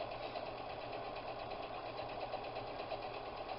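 A sewing machine runs a straight top stitch across a tote bag's trim, giving a steady, even mechanical whirring with a rapid rhythmic needle pulse, close and unbroken.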